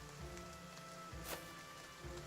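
Rain patters steadily in the Battle Brothers video game, a soft continuous wash of drops on surfaces with a faint low rumble underneath.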